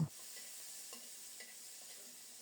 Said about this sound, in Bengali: একটু লবণ দিয়ে বরবটিগুলো ভালো করে ভেজে নেব